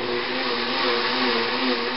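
A blender whirs loudly and steadily, blending a raw chocolate protein shake in one continuous, even high-speed roar with no pauses.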